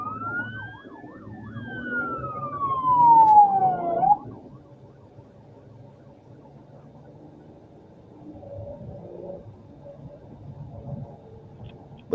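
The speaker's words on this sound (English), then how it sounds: "Now you can hear the other sirens coming up behind him." A police motor escort siren wails loudly with rising and falling yelps for a few seconds, then cuts off, leaving a low engine rumble and road noise.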